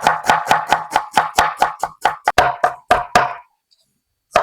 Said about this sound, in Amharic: እኔ ግን መክተፍ በጣም ስለምወድ ነው።